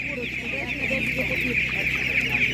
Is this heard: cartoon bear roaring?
no